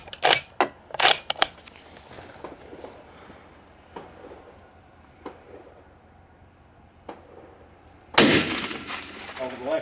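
Spanish FR8 .308 military surplus bolt-action rifle fired outdoors in stiff wind, with several sharp, loud shots spread across the stretch, the loudest blast near the end, with quieter clicks and handling noises between them.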